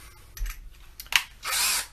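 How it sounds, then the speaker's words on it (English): A power drill with a quarter-inch bit bores a strap-pin hole into a gourd instrument, giving a short whirring burst near the end after a few brief clicks and knocks, close up with no talking. "drill us a hole in here"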